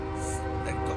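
Low rumbling drone of a CSX mixed freight train led by an ES44AC locomotive passing near, with a steady engine hum and tonal bands, continuous for the whole moment.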